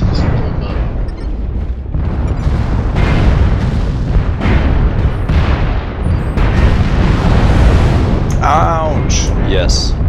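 Missile barrages in the MechWarrior Online game, a loud, dense run of booming blasts and rumbling impacts lasting several seconds, closing with sharper crackling bursts.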